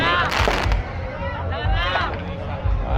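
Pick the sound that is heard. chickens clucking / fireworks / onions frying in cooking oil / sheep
fireworks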